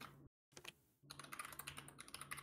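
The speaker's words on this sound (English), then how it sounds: "What's Coach typing" Computer keyboard typing during a game of From The Fog: a brief silent gap, then a dense, steady run of quick key clicks, close and fairly quiet, with no talking.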